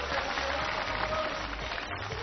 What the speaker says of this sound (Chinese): 掌声请出我们的队长和队员们